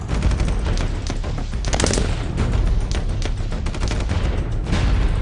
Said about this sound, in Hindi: चल रही हैं गोलियां।